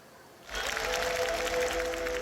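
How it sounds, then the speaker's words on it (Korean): A large crowd at Gangneung Ice Arena during a figure skating event bursts into cheering and applause, starting abruptly after a quiet moment and holding a dense, sustained roar. "많은 관중들이 모여 우리 선수들에게 아낌없는 응원을 보냈습니다"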